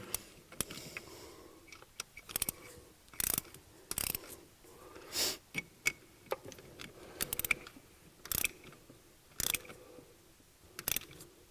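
Ratchet wrench tightening the valve cover nuts on a VW/Audi 3.0 TDI engine during a valve cover gasket replacement: repeated short bursts of close clicking, each lasting about a fraction of a second, separated by quiet pauses, with no talking.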